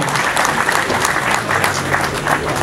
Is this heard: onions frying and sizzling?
no